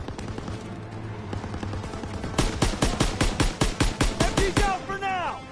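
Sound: machine gun fire in WW2 video game

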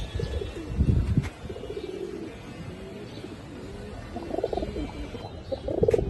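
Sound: pigeons cooing, Bagha silver pigeon pair

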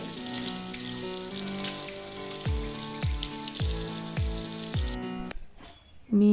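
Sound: water running from a tap while washing

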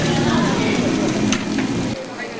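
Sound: beef frying in a pan

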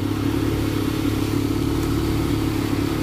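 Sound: RC speedboat motor running on water

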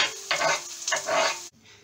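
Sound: onion and garlic frying in a pan

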